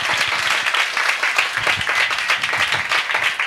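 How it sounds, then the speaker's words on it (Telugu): A church congregation at a fasting prayer service claps in praise, a dense, steady burst of many hands clapping together, close and loud, with no talking over it. "చప్పట్లు కొట్టి దేవుని ఘనపరుస్తాం"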